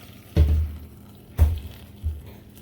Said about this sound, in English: Take your flowers, take water, get it to a rolling boil. Pour it over top of your flowers.